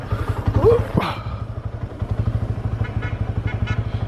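Idling motorcycle engine thumping in a steady, even rhythm throughout, with a brief louder clatter and a short vocal sound near the start.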